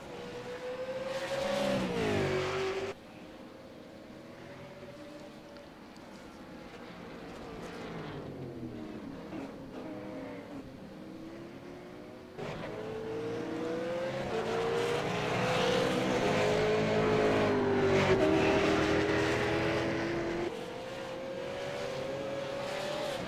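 V8 Supercars race cars roar down the straight at the Americas round, their engines droning at high revs with pitch rising and falling as they close up and pass, loud and steady throughout.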